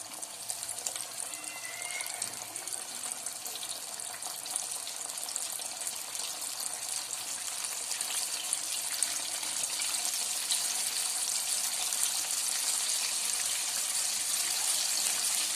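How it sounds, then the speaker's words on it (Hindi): Breaded karahi-cut chicken pieces fry in hot oil in a medium kadai, producing a dense, steady hiss and crackle that holds throughout and swells slightly toward the end, with no voices. "आहिस्ता से अपना गरम तेल के अंदर अपना फ्राइड चिकन डालना है"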